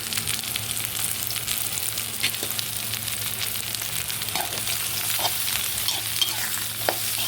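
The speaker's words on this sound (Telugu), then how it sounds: "చిన్న కాకరకాయన కొంచెం సాల్ట్ వేసి ఫ్రై చేస్తున్నామండి" Small bitter gourds fry with salt in a pan, a steady soft sizzle running throughout with light stirring scrapes and a few clicks, close and continuous with no talking.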